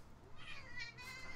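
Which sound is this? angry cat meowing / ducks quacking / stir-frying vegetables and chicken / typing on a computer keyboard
angry cat meowing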